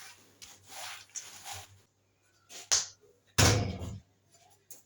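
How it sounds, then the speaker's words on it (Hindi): Peanuts being stirred through hot sand in a cooking pan, giving intermittent gritty rasping and scraping bursts, with one longer, louder sweep near the end and quiet pauses between strokes. "अब मैं थोड़ी देर इसको ऐसे ही चलाऊंगी क्योंकि जो थोड़े बहुत जो भूनी है इसी में भून जाएगी"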